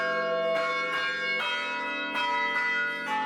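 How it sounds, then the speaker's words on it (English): Tower chime bells at Manchester University ring out across campus in a steady sequence of overlapping, sustained tones, each new strike blooming over the lingering hum of the last, with no talk. "to hear the chimes ring through campus once again"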